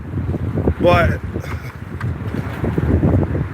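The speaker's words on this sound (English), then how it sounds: "it's fucking windy" Strong wind buffets the microphone with a steady low rumble, while someone talks over it and a faint whistling tone rises briefly.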